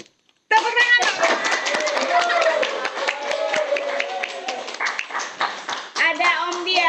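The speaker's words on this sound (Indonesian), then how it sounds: "Tepuk tangan." A studio audience claps for a guest on an Indonesian casual talk show, the clapping starting abruptly after a short silence and continuing steadily with cheering voices and some talk layered over it.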